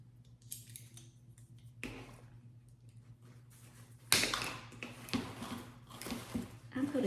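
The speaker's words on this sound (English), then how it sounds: "cut these blooms off." Scissors snip sunflower blooms off their stems, giving sharp close cuts and rustling after a quiet stretch with faint handling.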